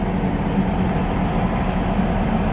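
An old third-class local train on the Bangkok to Hua Hin line rumbles along in a steady, loud, unbroken roar heard from inside the carriage.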